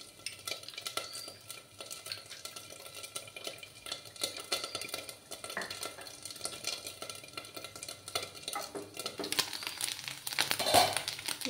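A spoon stirs to dissolve a spice mixture for a Bengali panch phoron rui fish dish, making steady, soft scraping and swishing that runs close and continuous with light clinks now and then.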